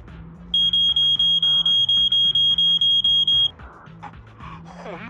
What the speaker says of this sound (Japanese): 本当に警報が来たぞ